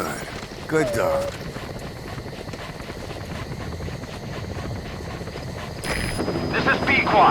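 Support helicopter in Metal Gear Solid 5 arriving at the landing zone: a steady, loud rotor and engine drone runs throughout, with radio-style voice chatter over it and a brief louder swell near the end.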